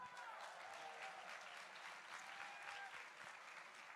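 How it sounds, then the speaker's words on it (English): Audience applause fills the hall at a live Save Soil event with Sadhguru in Jordan, a steady dense clapping that holds at even loudness throughout without a break. "Let me hear a big round of applause."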